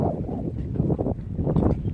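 Boat crossing the Ganges, a continuous low rumble of water and engine motion mixed with gusty wind noise, close and fairly loud throughout.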